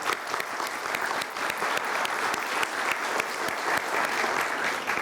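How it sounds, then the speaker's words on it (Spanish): Audience at the 87th National Coffee Congress applauding after a vice-presidential speech, a steady dense round of clapping from a large indoor crowd that holds at an even, fairly loud level throughout. "Ustedes se merecen un aplauso."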